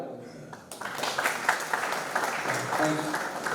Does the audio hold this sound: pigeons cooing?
no